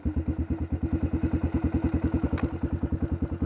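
A warmed-up quad bike engine idles with a steady, rapid thumping pulse, close and fairly loud with no other sounds over it.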